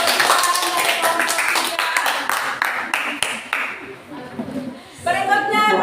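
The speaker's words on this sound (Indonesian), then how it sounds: "Tepuk tangan untuk perwakilan dari kelompok" Classroom applause for a group representative after a student presentation, a burst of close hand clapping from a small group of students that thins out toward the end, with voices mixed in.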